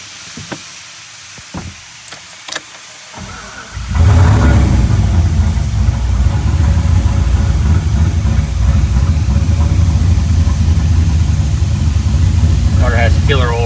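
A car engine starts after an oil change and alternator swap, catching after a few seconds of quiet clicks, then settles into a loud, steady close idle with a hissing edge and a brief voice.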